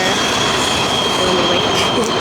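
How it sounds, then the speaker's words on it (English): Passing train right outside an old apartment, loud and close, with a high sustained wheel squeal riding over a dense roar of rolling stock and faint rhythmic clatter. "I know that train is loud, isn't it?"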